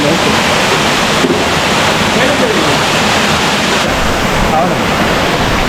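Lovers Leap waterfall near Nuwara Eliya, Sri Lanka, gives a steady, loud rushing roar of falling water that fills the scene continuously, with some wind buffeting the microphone.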